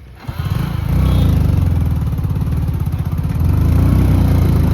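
A motorcycle starts off and rides along a village road, its engine a loud, close, steady thumping drone that builds within the first second and holds throughout.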